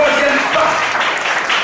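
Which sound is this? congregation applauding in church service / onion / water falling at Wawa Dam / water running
congregation applauding in church service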